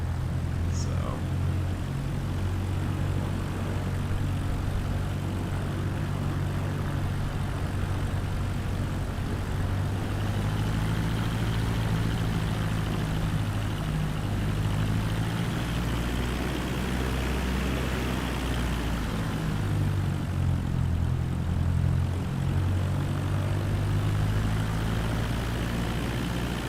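Small propeller airplane taxiing at Auburn airport (S50), a steady low engine drone with a constant hum throughout the clip.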